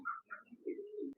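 Fancy pigeons at a farm in Gazipur give a short, soft, close coo, a couple of low warbling notes with no other sounds.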